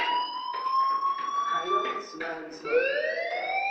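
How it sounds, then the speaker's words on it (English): A school fire alarm in the Life is Strange video game blares as a steady, rising electronic siren wail that fills the whole stretch, loud and continuous, with a voice talking over it. "do you hear that fire alarm?"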